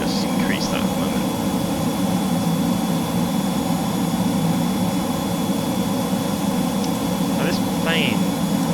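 A Eurofighter jet flown low in Microsoft Flight Simulator 2024 roars with a steady, dense engine rush and a constant whine, loud throughout, with a voice speaking briefly over it.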